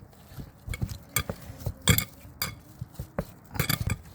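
Utensils clink and scrape against a bowl while dough for mutton rolls is worked by hand, giving irregular close, bright taps and knocks with short pauses between them, no talking.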